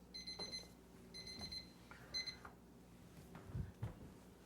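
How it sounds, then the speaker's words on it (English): A kitchen timer alarm goes off in three short bursts of rapid high electronic beeps, fairly clear over a quiet room with low background rumble and no speech. "There's my timer."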